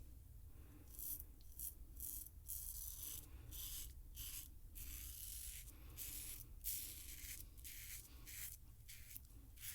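A Caveem safety razor with a light, hollow handle cuts five days of beard stubble in short, quiet scraping strokes with brief pauses between them, close and soft.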